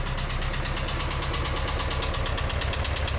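A VW T3/T25 engine idles steadily after a minor service, close and loud, with an even rhythmic pulse and a slight ticking running through it, no voices.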